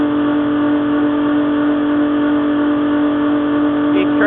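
A bulk delivery trailer unloading product gives off a loud, continuous droning hum with a steady pulsing texture, close by and unbroken throughout.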